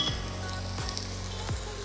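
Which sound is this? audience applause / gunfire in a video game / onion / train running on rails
onion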